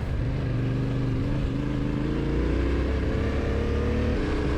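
A vehicle engine drones steadily while driving on a dirt and muddy road near the Black Hills, loud and close, with a rising pitch toward the end and no talking.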